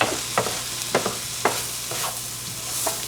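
Mushrooms and onions frying in a skillet for a beefy cheese rice dish, giving a steady close sizzle broken by several scraping stirs of a utensil against the pan. No voices are heard.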